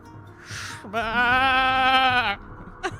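A sheep lets out one loud, wavering bleat close by, preceded by a soft breathy noise and followed by a brief higher squeak.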